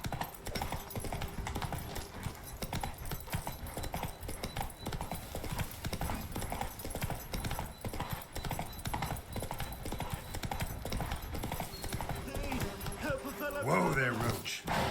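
Roach the horse gallops in The Witcher video game, a rapid continuous drumming of hooves throughout, slowing toward the end with a snorting whinny, while voices talk over it.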